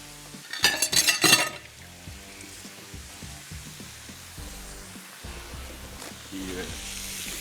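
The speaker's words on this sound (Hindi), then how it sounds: "पहले इनको आपने फ्राई करना है।" Chapli kebabs fry on a stove, opening with a loud burst of sizzling over the first couple of seconds, then settling into quieter, steady frying with occasional clinks of utensils and pans.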